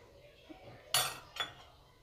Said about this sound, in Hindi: यहाँ हमने सूजी और दही को मिक्स कर लिया है।